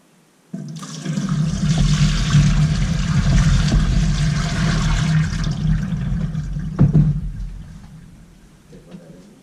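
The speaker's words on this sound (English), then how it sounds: "Now I'm gonna dump some fresh water down." Water gushes loudly down a drain in a home brewery for several seconds with a steady rushing roar, then tapers off into a gurgling trickle.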